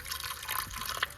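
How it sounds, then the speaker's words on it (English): Water poured from close by into a pot holding a small roast beef, a steady liquid splash and trickle running throughout with no talking. "Add a small amount of water."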